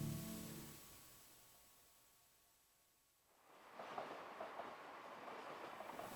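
Train rolling along rails in the video game Eastward, fading in after a quieter stretch as a steady rumbling clatter with faint rhythmic clicks, fairly close and continuous.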